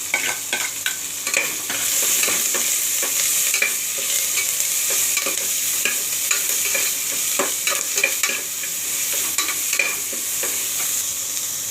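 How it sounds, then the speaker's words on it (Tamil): Sliced onion and curry leaves fry in hot oil with fennel seeds and cinnamon for a mutton gravy, making a constant close sizzle broken by frequent scraping stirs, with no voices. "வெங்காயம் போட்டுக்கலாம், கருவேப்பிலையும் போட்டுக்கலாம்."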